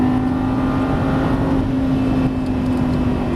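A Lamborghini Gallardo Superleggera LP570-4 at Las Vegas runs at full throttle, a loud, steady, high engine drone holding one tone throughout.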